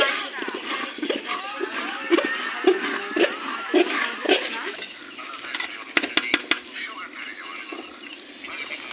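Duck meat masala cooking for a picnic is stirred in a pot, with scraping and metallic clatter of a spoon against the pot and a burst of sharp clinks near the end, under a nearby voice.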